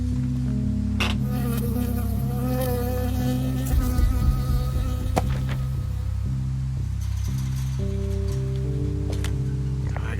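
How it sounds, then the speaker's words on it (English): A bee buzzes steadily and close in the Firewatch video game, droning over a backdrop of sustained low musical tones. "I got stung by a bee."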